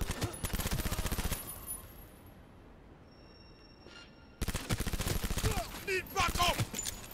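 Rapid bursts of automatic gunfire in the video game Cyberpunk 2077, loud and close, stopping briefly for a quieter stretch before a second volley with ricochet-like pings.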